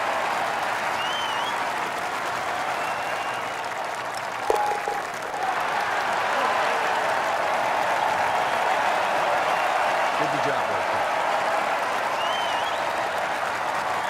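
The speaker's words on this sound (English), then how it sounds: "this crowd's really put me off because they're just cheering it absolutely" A golf gallery in the EA Sports Rory McIlroy PGA Tour video game cheers and applauds steadily throughout, a dense, loud wash of crowd noise with a brief sharp knock partway through.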